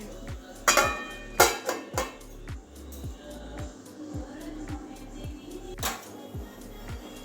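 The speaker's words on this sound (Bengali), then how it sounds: "এবারে ঢাকা দিয়ে দিচ্ছি" A lid set onto a cooking pot of greens simmering in water, heard as several light metallic clanks and clatters up close, with quieter knocks between them.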